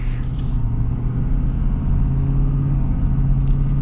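Inside a 2024 high-output off-road pickup truck, the engine gives a steady, loud, low rumble while driving, and a faint voice is briefly heard over it.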